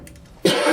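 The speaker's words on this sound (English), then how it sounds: "I had a little coughing jag." A single short cough bursts out after a brief quiet moment, close and fairly loud, with faint background hum before it.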